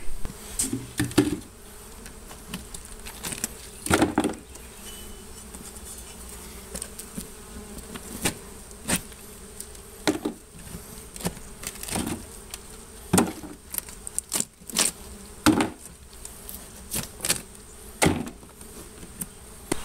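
Honey bees swarm and buzz around an old hive being cut out after Hurricane Katrina, a steady close insect drone broken by sharp clicks and knocks of tools and comb handling.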